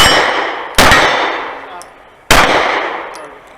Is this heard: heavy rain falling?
no